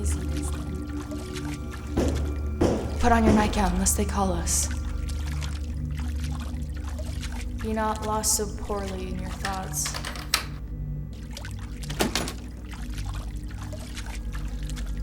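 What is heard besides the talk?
water pouring while washing hands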